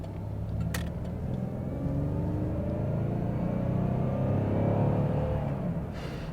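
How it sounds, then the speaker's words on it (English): A 1991 Oldsmobile 98 Regency Elite sedan's engine rumbles steadily and builds as it accelerates out of a turn, a continuous low drone that swells slightly toward the end. "Get this car up to speed out of this turn"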